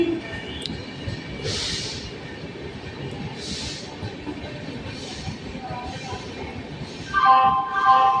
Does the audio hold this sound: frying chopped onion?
no